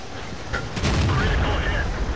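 A tank cannon fires in World of Tanks with one heavy, booming blast that rolls into a sustained low rumble, loud and close, and the rumble carries on to the end.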